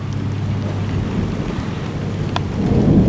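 Heavy rain falls steadily during a thunderstorm while deep thunder rumbles low and continuous, swelling louder toward the end, with no voices.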